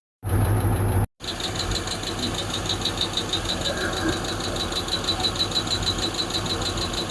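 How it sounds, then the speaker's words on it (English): A Hemi-powered Plymouth Duster idles steadily nearby with a clanking lifter, its rough mechanical rumble and ticking running continuously after a brief loud burst and a short gap at the start. "One lifter's clanking away though."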